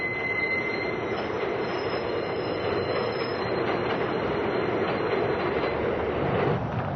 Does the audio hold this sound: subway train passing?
yes